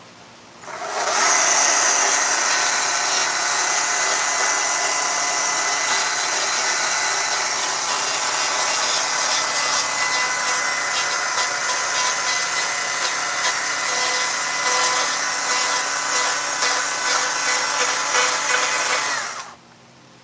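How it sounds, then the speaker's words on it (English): Battery chainsaws, Stihl-style MSA 160, 200 and 220 models, carving wood: a continuous high-pitched electric whir with rough cutting texture, running close and loud for about eighteen seconds with no pauses. "Just gonna be running my battery saws."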